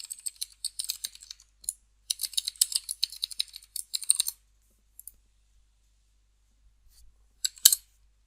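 Crisp, close keystrokes on a computer keyboard as a username and password are typed, in quick bursts with short pauses, ending in a final sharp key press.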